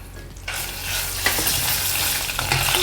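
Bay leaves and ginger paste sauté in a pan for a Punjabi red gravy, starting quiet, then breaking into a steady, loud sizzle with a few scraping stirs, no voices.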